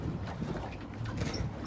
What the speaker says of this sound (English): Turn the engine off and call it quits, I think.